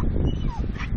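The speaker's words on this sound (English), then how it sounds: "Silly puppy." A puppy whimpers and gives a short high yip, close and brief, over a low rumbling background.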